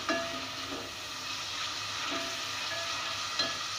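Garlic and ginger paste fries in a pan for an Indian egg and potato curry, giving a steady close sizzle with faint stirring scrapes and no voices.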